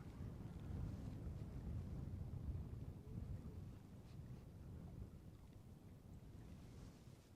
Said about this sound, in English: So you can hear that wind.